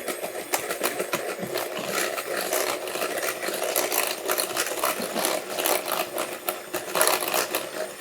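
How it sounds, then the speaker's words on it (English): Electric mixer whisking lemon poppyseed bread batter, a dense, fast, rattling whir with rapid clicking texture that runs steadily and close throughout, no voices. "The mixer."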